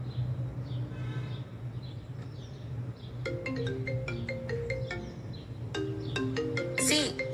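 A mobile phone ringtone plays a repeating electronic melody of bright tones that starts partway through, over a low steady hum in a quiet room.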